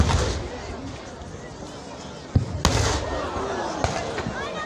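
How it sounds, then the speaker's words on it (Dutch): Cannon fire booms during a Battle of Waterloo reenactment, a few sharp, heavy blasts rising out of a rumbling outdoor background with crowd noise and distant activity. "Et l'artillerie alliée est en train de riposter."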